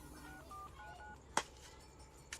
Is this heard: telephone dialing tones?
yes